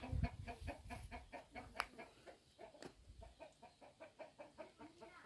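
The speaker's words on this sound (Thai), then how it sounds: "เสียงไก่พี่น้องเลย" Chickens cluck in quick, rhythmic pulses, fairly soft and continuous, with an occasional sharper squawk.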